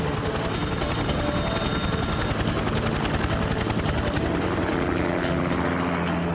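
A helicopter flying low overhead, its rotor downwash making a loud, steady, dense roar and whoosh that fills the scene without letup.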